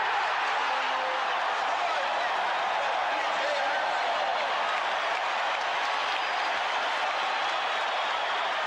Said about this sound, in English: They are standing and cheering the Bulls.